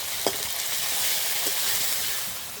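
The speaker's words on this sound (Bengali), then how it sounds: "বেটে রাখা সব মশলা তেলের মধ্যে দিয়ে দিচ্ছি।" Ground spice paste, salted, hits hot oil in a pan while pangas fish is cooked, giving a steady close hiss of frying with a few brief spatters and no talk.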